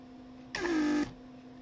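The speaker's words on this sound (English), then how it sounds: "Pump activates well." A repaired Mercedes central door lock vacuum pump running, a short half-second electric whir with a steady hum that starts and stops abruptly, loud and close against a quiet background.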